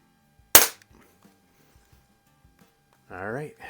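A single sharp crack from a Crosman 760 pump air rifle sounds close and alone, then quiet, with a voice speaking briefly near the end.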